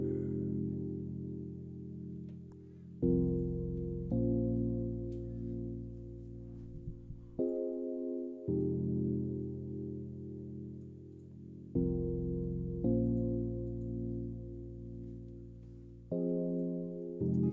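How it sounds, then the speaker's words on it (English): An electric piano from the Suitcase preset in the Expand plugin plays a repeating chord progression in an amapiano beat, warm sustained chords changing every second or two and looping, close and clear with no voices. "we're using the suitcase preset under the electric piano category"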